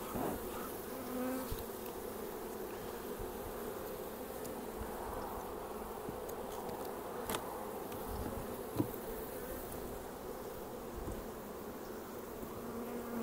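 Honeybees from a Taranov split, freshly stirred up, keep up a continuous dense buzzing for the whole stretch, fairly soft and even, with a few brief sharper bumps.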